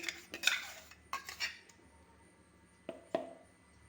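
A spoon scrapes and clinks against a pan while blended jackfruit paste is stirred over a low flame, producing a few soft, scattered strokes in an otherwise quiet kitchen.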